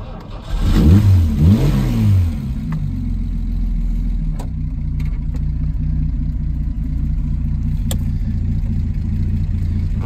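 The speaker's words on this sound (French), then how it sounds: "Moteur qui tourne très bien." A car engine starts with a couple of quick revs, then settles into a steady, loud idle that continues to the end.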